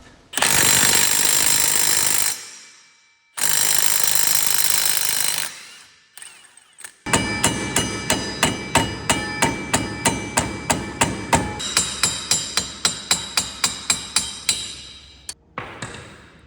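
Two long bursts of loud hissing from heating, then a steady run of about two dozen sharp metal hammer blows on a seized ATV wheel hub at a quick, even rhythm, close by.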